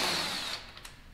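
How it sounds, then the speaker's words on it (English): A quarter-inch impact driver removing 10 bolts during a headlight install on a Chevrolet Suburban whines briefly at high pitch, then spins down and stops, followed by faint clicks. "I'm gonna use my little impact, my quarter inch impact"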